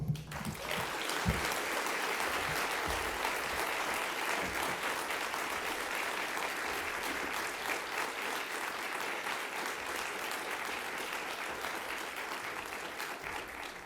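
Sustained applause from a large audience for a keynote speaker, steady and dense clapping that holds at an even level throughout with no voices standing out.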